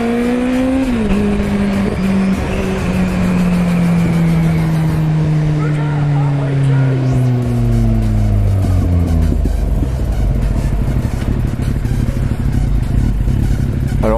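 A Z800 motorcycle's exhaust roars loud and close, its engine tone sliding steadily downward as it slows, with a rough, gritty rumble underneath.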